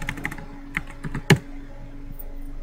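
Quick keystrokes on a computer keyboard as a short folder name is typed, a handful of light clicks ending in one firmer key press, heard close with no talking.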